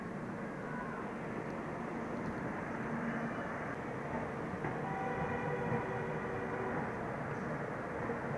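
Krishak Express passenger train departing a station, a steady rumbling roll of wheels and carriages with faint squeals, continuous and fairly distant with no talk.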